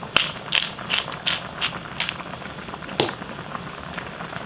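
A pot of sundubu jjigae, a Korean soft tofu stew with garlic and chili, boils steadily, popping and bubbling in an irregular patter of sharp close clicks over a constant low simmer.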